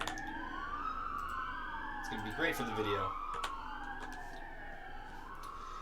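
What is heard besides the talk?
sirens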